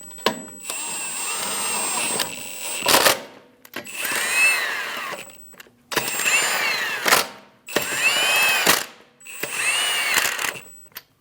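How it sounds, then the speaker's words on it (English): Power tool driving lug nuts onto a 2011-2025 Mitsubishi Outlander rear wheel, five loud close bursts of whirring with rattling impacts, each about a second or two long, separated by short pauses. "Snug the nuts down."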